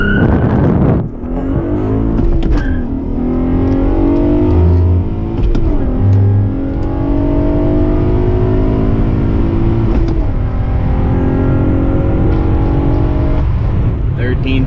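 A manual Acura TL launches hard, its engine revving loud and climbing through rising pitch sweeps with shifts between them, and tire screech likely blended into the sustained roar close by.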